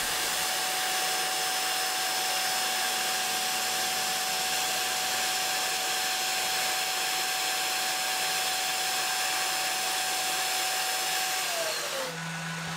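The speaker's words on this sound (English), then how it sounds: "I turn the vacuum cleaner on and off by hand all the time." A vacuum cleaner runs steadily and loudly with a constant high whine and broad roar, then powers down near the end as the tone drops away, leaving a low hum.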